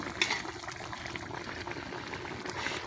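Freshwater rohu fish curry with ground spice paste bubbles and hisses in a pan as it is stirred, a soft, continuous wet simmering with faint scraping and spluttering, no voices.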